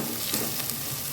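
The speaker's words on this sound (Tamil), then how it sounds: "இது எல்லாத்தையும் சேர்த்து ஒரு தடவை கலரி கொடுத்துக்கலாங்க." Ground spices, salt and masala fry in a pan while being stirred, a dense, even sizzle with soft scraping underneath, close and steady.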